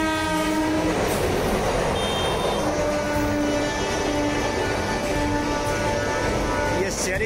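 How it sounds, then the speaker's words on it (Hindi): Indian passenger train on the Nellore to Vijayawada route, heard from aboard as a steady loud rumble and clatter of wheels, with a horn sounding and voices talking over the continuous noise. "अभी मेरी ट्रेन है विजयवाड़ा की।"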